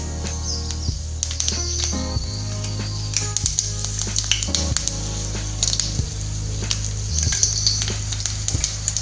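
Cumin seeds and dried red chillies crackle and sizzle in hot oil in a kadai, making a steady, close frying hiss with scattered pops and stirring clinks over a low background hum.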